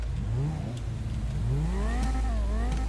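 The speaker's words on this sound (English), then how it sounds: "just listen to this car, though." A car engine revs up and down in loud, sweeping pulls that rise and fall over a steady idle rumble, close by, with no talk over it.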